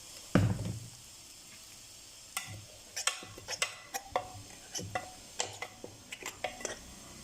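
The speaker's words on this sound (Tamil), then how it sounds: "ஆயிலில் போட்டு இது கொஞ்சம் ஆயிலில் ஃப்ரை பண்ணி எடுத்துக்கலாம்." Sambar premix powder fries in oil in a pan: a quiet sizzle runs underneath while a spoon stirs and scrapes in a run of sharp, irregular ticks and clinks.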